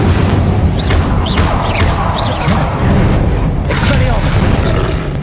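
Incendio fire spell cast repeatedly in the Hogwarts Legacy video game, producing loud whooshing bursts and booming impacts in a dense, busy battle mix with a few brief swishes layered over a constant low rumble.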